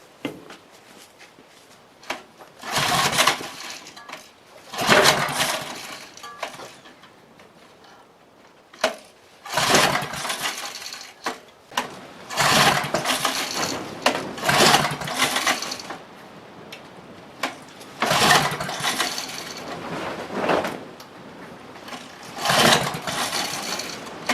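An old small engine given fresh stabilized fuel is pull-started repeatedly, bursts of ratcheting cord pulls and sputtering turnover spaced a few seconds apart, close and loud, never catching and running.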